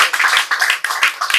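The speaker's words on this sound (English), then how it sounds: "Give them a round of applause" A group claps in quick bursts, a brief round of applause close by with no voices.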